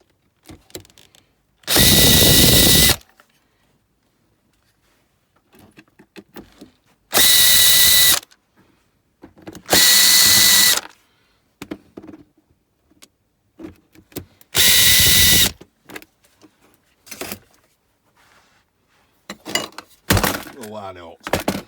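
Power drill backing screws out of a salvaged appliance during scrapping for iron and aluminium: four loud, close bursts of whirring, each a second or so long, separated by quiet gaps with clinks and brief handling noises, and another short burst near the end.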